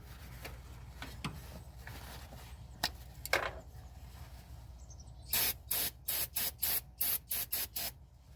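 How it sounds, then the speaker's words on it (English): Brake cleaner sprayed onto a Toyota engine during a valve cover gasket replacement, a series of sharp aerosol hissing bursts in a steady rhythm following some faint handling clatter, close and loud with no talk. "Then I'm gonna use some brake cleaner."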